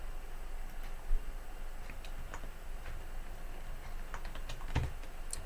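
Sparse computer keyboard typing for copy and paste shortcuts, a few scattered key taps and clicks at moderate distance with quiet pauses between them.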